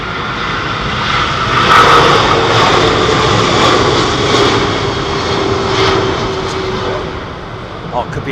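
A jet airliner with Rolls-Royce engines passes at Heathrow, a loud sustained roar and rumble swelling then fading gradually, with someone talking over it.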